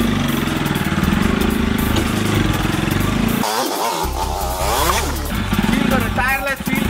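A motorcycle ridden slowly during a beginner's riding lesson, the engine droning steadily and close by, with a brief dip in the low rumble, under the sound of people talking.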